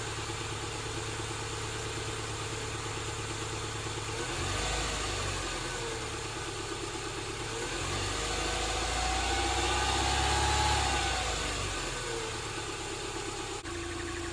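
A Subaru EJ boxer engine idles after a rocker seal job, a steady medium-pitched rumble close by with a faint whine, swelling gently twice as the idle shifts, no voices over it.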